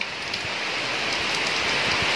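Steady monsoon rain falls on a rooftop area in a constant dense hiss, loud and close, with no voices over it.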